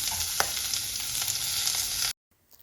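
Onions sizzling loudly in hot oil for bisibele bath, a steady close crackle with a soft stirring scrape, cutting off abruptly near the end into near silence.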